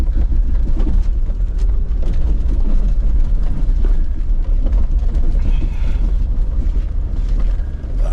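A vehicle engine drives through snow, its steady low drone and rumble continuing without pause, roughened by wind buffeting on the microphone.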